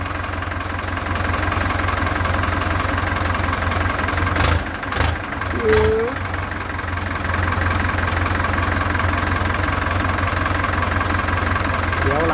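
An old Ford tractor engine idles steadily with a constant low rumble throughout, briefly interrupted by a few short knocks and a faint voice partway through.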